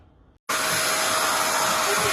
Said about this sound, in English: dog likes a hairdryer too